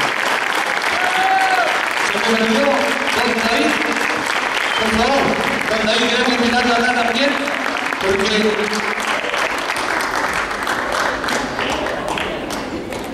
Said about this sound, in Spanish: para que este público sea generoso y pueda invitar un aplauso